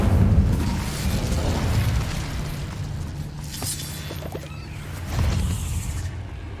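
An Incendio fire spell cast in a cave in Hogwarts Legacy erupts in a loud, booming burst with a whooshing roar, then quieter crackle, and a second surge swells near the end.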